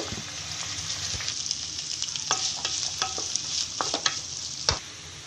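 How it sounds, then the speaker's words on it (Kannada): Onions and green chillies fry in a pan with a soft crackling sizzle, broken up by repeated clicking scrapes and taps of a spoon stirring them. "ಈರುಳ್ಳಿ ಸ್ವಲ್ಪ ಗೋಲ್ಡನ್ ಬ್ರೌನ್ ಬರೋವರೆಗೂ ನಾವು ಫ್ರೈ ಮಾಡ್ಕೊಬೇಕು"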